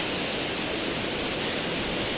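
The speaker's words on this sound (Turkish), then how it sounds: "Bakın burada da böyle çok güzel bir şelale var." A waterfall in the mountains of Kyrgyzstan, fed by meltwater from snow and ice, roars as a steady, dense broadband wash of falling water with no voices over it.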